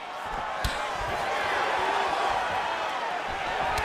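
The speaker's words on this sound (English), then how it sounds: "You hear the impact of that leg kick." A leg kick lands with one sharp thudding impact in the UFC 5 fighting video game, followed by a steady, loud arena crowd roar.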